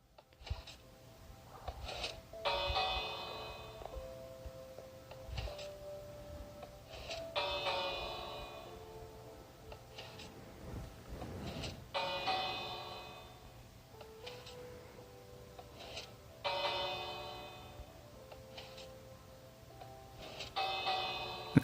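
A bell in the video game Minecraft rings twice with each press: bright, ringing tones that recur at regular intervals, clear and sustained against a quiet background.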